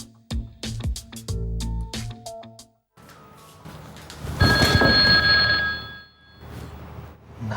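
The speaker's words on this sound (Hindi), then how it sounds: "नाजिया का फोन।" A telephone bell rings in loud, repeated bursts nearby, followed by a dense clattering stretch of household noise with a bright tonal hum.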